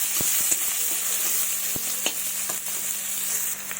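Chopped onions with a little salt frying in a pan, a steady loud sizzle broken by a handful of quick spatula scrapes and knocks against the pan, without any speech.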